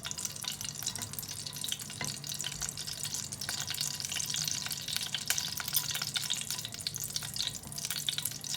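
Cardamom pods sizzle steadily in hot ghee, a close, continuous frying crackle with occasional stirring scrapes throughout.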